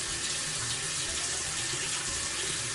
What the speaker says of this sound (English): So this is my sink. This is what you're hearing.